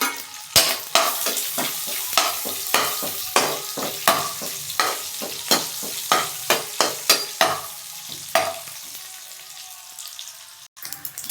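Anchovy rice with chili powder frying in a pan, stirred with rapid rhythmic scraping strokes over a steady sizzle, close and clear, slowing to a stop near the end with no talk.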